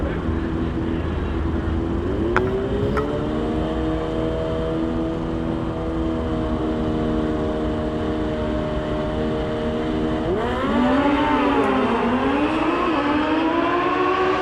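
Drag racing motorcycles, a 2018 Suzuki GSXR 1000 and a 2017 Suzuki Hayabusa, scream down the strip in high-revving engine wails that rise and shift through gears, heard at a distance over crowd ambience.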